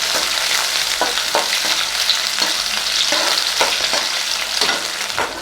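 Onions sautéing in hot oil in a pan for a potato capsicum gravy, a continuous bright sizzle broken by regular scraping stir strokes, close and with no talking.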